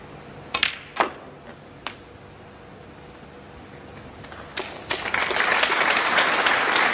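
Snooker audience at the Champion of Champions 2018 match: a few scattered sharp claps at first, then full applause building and swelling near the end, fairly close and steady.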